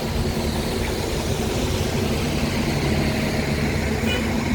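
City buses idle on a rainy downtown Chicago street, a steady low engine rumble under constant traffic and rain noise, moderately loud and continuous throughout.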